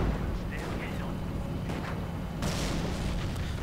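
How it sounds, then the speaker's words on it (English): Mortar rounds landing in a 1v1 real-time strategy battle, with continuous rumbling booms and dense explosive crackle throughout and a stronger blast burst near the end. "Mortar rounds flying in."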